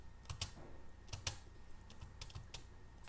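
Soft, close keystrokes on a computer keyboard as a number is typed, a few separate taps spread through a quiet room with no talking.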